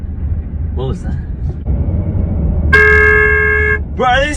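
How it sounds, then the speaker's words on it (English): Car horn honks blared from a speaker hidden in a car trunk, several short toots and one long sustained blast, loud and close over road rumble and a voice talking. "I put a speaker in my friend's trunk and played honking sounds."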